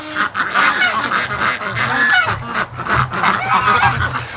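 A noisy flock of ducks waiting at a gate honks and quacks continuously at close range, many calls overlapping in a busy chorus.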